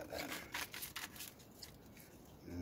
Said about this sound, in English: So let's under shuffle.